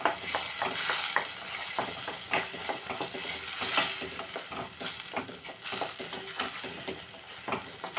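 Ginger garlic paste fries in a pan with a dense, crackling sizzle, broken by repeated close scrapes and knocks of a spoon stirring it, and no one speaks.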